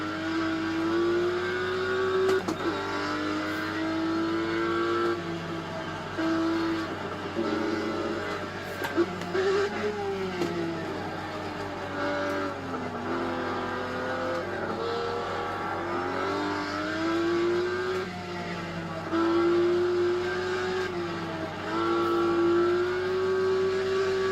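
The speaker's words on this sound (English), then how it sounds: "A lower downshift, not a red line downshift." Car engine revs rise and fall through repeated lower downshifts, a steady droning tone climbing and dropping with the gear changes, heard from inside the car over continuous road noise.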